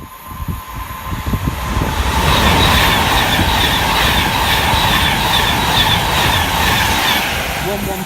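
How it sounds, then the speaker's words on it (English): A Class 390 Pendolino passing under a bridge on the West Coast Main Line at Tamworth, rising to a loud, sustained roar of wheels and rail noise with a high squealing whine, close by. "about to pass under the bridge is another 390 Pendolino service on its way to somewhere weird and wonderful for Virgin Trains"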